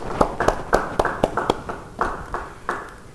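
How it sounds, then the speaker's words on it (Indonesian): An audience at a church Bible study claps together in about ten sharp, evenly spaced beats, loud and near, fading a little toward the end without any speech. "Yang setuju beri tepuk tangan buat Tuhan."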